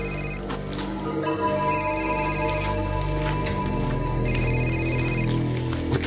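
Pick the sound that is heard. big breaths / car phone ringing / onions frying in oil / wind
car phone ringing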